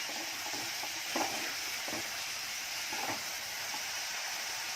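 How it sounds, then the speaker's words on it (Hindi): Onion, curry leaves and small pieces of green chili fry in a pan for a prawn curry, giving a steady, dense sizzle throughout with a few louder bursts of crackle as they are stirred. "ये काटा हुआ करी पत्ता है और ये 2 मिर्ची के छोटे छोटे टुकड़े, ये इसी में डालूंगी भूनने के लिए।"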